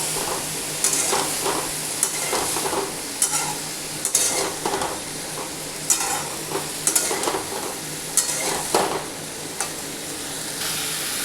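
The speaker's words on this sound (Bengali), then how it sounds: "আগে এটা খুব ভালো করে ভেজে নেব।" A chopped tomato fries in oil in a pan while being prepared for a Bankura-style posto, with a constant close sizzle broken by repeated scraping clicks of a spatula stirring against the pan.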